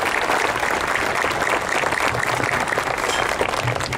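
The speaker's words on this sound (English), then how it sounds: "I just want to give a round of applause for this amazing, beautiful memorial." A crowd gathered at a peace officer memorial bursts into full, steady applause, dense and loud clapping sustained from start to finish.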